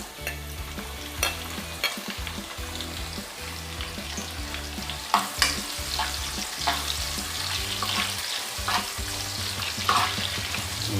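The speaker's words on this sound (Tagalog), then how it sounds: "Hintayin lang natin mag-brown yung bawang" Chopped garlic sizzles steadily in hot oil in a pan while being cooking-stirred for a golden-brown ginisa base, with scraping utensil strokes and spattering crackles in a continuous close-up sizzle and no talking.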